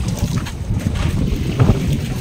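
Strong wind roars across a boat at sea, a dense continuous rush with gusty swells and low buffeting rumble throughout, with no voices.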